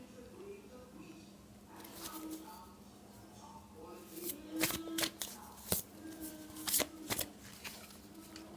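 A deck of tarot cards is shuffled up close, with soft riffles and several sharper slapping bursts in the second half, under quiet speech.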